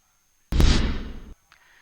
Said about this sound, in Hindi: बीजेपी कायदीन और कारकुनों ने मिठाइयां तकसीम की, आतिशबाजी की गई।